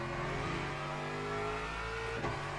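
An Aston Martin race car engine in a racing video game hums loud and steady from close by, with strong layered harmonics and a slight rising rev near the end, without voices.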